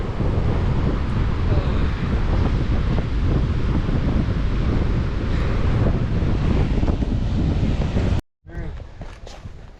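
Sea waves crash and surge continuously on a beach under strong gusting wind that buffets the microphone, then the roar drops off abruptly near the end.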